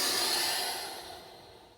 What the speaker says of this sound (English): powerful exhale, resonant exhale